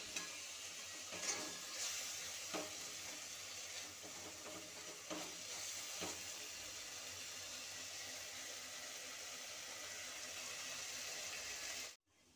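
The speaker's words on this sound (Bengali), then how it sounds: "মশলাটা দিয়ে আমি ভালো করে কষিয়ে নেব এবং হলুদটাও দিয়ে দিলাম, নুন দিয়ে দিলাম।" A soft, continuous sizzle comes from a spice paste with turmeric and salt frying in a pan, with faint stirring scrapes through it. It cuts off abruptly near the end.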